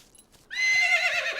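A cartoon horse in a stable lets out a loud, close, high whinny that starts suddenly and holds for about a second, with no talking over it.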